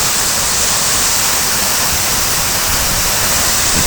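The Sırakayalar waterfall gives a loud, steady, close rush of falling water that fills the whole clip without a break, and no voices are heard over it.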